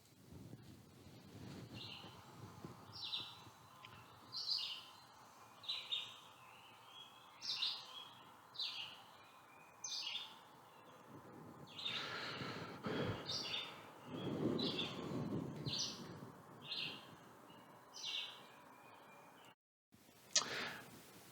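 A red-eyed vireo sings in Florida, repeating short, bright phrases separated by pauses, fairly faint and distant over a light background hiss.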